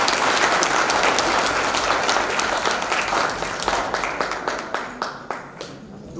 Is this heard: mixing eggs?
no